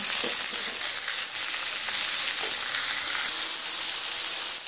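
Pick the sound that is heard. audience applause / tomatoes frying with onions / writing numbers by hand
tomatoes frying with onions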